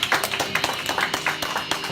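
A youth church audience claps in a quick burst of short, sharp, evenly paced hand claps, moderately close, with no talk.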